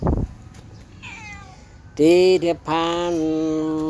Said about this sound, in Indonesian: Dia masih mengeong.